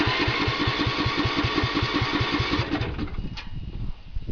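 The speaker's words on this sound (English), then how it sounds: "this is one of the guys just hearing the lawnmower start" A mid-1980s Sears Craftsman riding mower with a Tecumseh engine cranks on a cold start in rapid, even, loud chugging pulses for a few seconds before the rhythm breaks off into a rougher, uneven run.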